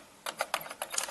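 Quick burst of about six sharp keystrokes on the mechanical keyboard of a 1985 Thomson MO5 home computer, close and clicky with typewriter-like action, in an uneven rhythm.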